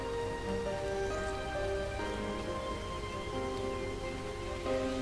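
Rain falling in Starbound, a steady wash of rainfall noise under sustained game music tones, even and continuous for the full five seconds.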